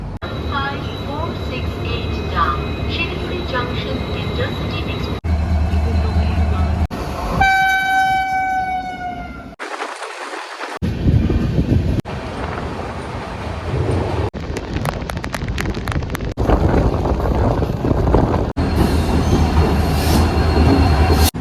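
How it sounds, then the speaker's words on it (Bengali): Train noise in several cuts from the Garib Rath Express near New Cooch Behar, India: a rolling rumble with rattling, a loud sustained horn blast midway, then more clattering and squealing wheels. "ট্রেন এখন নিউ কোচবিহারের আউটারে দাঁড়িয়ে রয়েছে"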